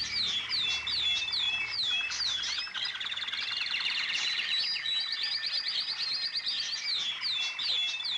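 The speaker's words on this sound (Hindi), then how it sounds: "चिड़ियों की चहचहाहट से अभी नींद खुली है।" Morning birds chirp and twitter in a village, a dense chorus of high, repeated calls and trills running continuously, moderately loud and close, with no speech.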